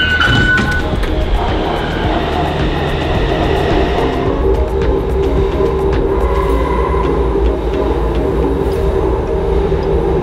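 A Taipei metro train rides along with a steady, loud rumble and rolling rail noise throughout, a brief tone at the start, heard from inside the carriage.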